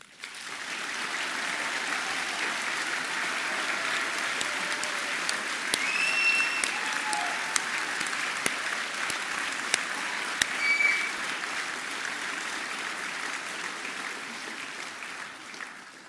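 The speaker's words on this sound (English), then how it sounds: "I want to give you the chance to clap and thank everyone who has worked so hard to enable you to achieve your potential today" A graduation ceremony audience applauds steadily for the graduates' supporters, a dense, sustained wash of clapping from a large hall crowd lasting throughout with no talk.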